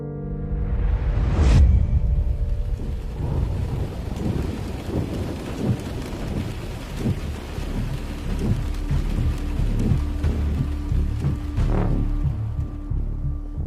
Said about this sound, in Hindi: बारिश हो रही है मारवाड़ के इस इलाके में